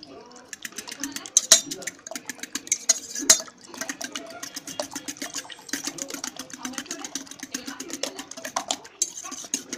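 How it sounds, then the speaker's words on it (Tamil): Eggs beaten with chilli powder and salt in a bowl, a steady run of quick clinking whisk or spoon strokes against the dish, close and fairly quiet, with no talking. "இப்போ நல்லா மிக்ஸ் பண்ணிக்கலாம்."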